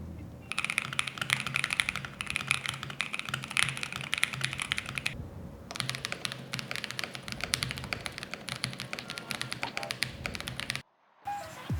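Continuous fast typing on a custom mechanical keyboard fitted with GMK Thinkcaps keycaps, a dense stream of close, crisp clacks with a brief pause midway and a silent gap near the end.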